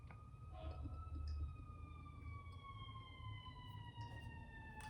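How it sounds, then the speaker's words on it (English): A fire truck's wailing siren sweeps steadily downward in pitch, several seconds long, over a low engine rumble, fading slightly as the truck passes at some distance. "Fire truck. Sirens."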